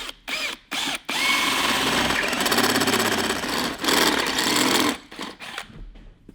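A drill grinds into a metal off-road kart wheel hub after a few short starts, running steadily for several seconds with a harsh rattling buzz before cutting off.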